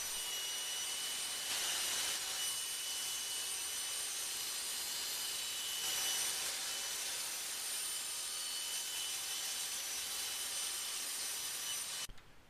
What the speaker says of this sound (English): Now move over to the table saw and cut the plunger handle, spacer, and bed plate to their final dimensions.